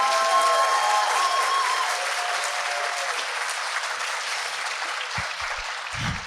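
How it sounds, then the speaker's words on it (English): Audience applause at a university president's address, a full steady wash of clapping from a large crowd that holds for several seconds before trailing off. "Give them another round of applause."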